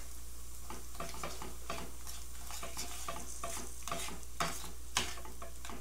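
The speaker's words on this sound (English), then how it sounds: "And you just mix it up, let it melt down." A spoon stirs cream cheese into a tofu scramble in a pan, making a soft, rhythmic scraping and gentle sizzle, quiet and close, with a faint low hum underneath.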